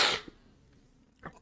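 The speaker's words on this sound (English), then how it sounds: "You sitting there watching me sneeze" A single loud, close sneeze bursts out at the start and fades quickly, followed by near quiet broken by a couple of faint breaths or small movements.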